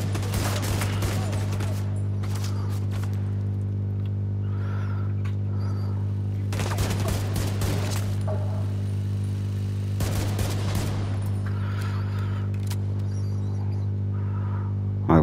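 Gunfire in the video game The Division 2, several bursts of rapid shots separated by quieter stretches over a steady low game hum, no speech.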